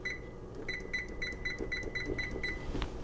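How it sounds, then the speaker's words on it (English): An oven timer beeps in a steady run of about nine short, evenly spaced electronic tones, moderately loud and close, over a faint kitchen background with no talking. "Okay, there's our timer."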